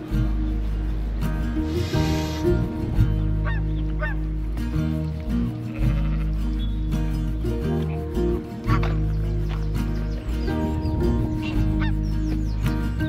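Geese honk repeatedly on a Nottingham pond shared with ducks and swans, with several loud, close calls in irregular bursts over a steady low background hum.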